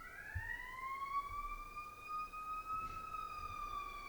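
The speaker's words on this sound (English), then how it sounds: "I'll wait for the siren to pass." An emergency vehicle siren wails outside, a steady rising and falling tone heard through walls at moderate distance, continuous for several seconds with no talk.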